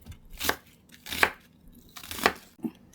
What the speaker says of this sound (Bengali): এই পেঁয়াজ 2টা কুচি করে দেব, ছোট ছোট টুকরা করলে